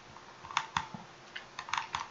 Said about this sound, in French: J'appuie sur CTRL pour faire la copie